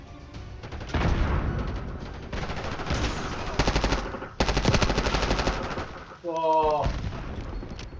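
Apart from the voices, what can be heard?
grenade and gunfire in the video game Call of Duty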